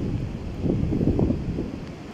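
Steady sea breeze on a beach at Dingalan, Aurora, buffets the microphone with a low, rumbling roar that swells slightly and never lets up, with no voices.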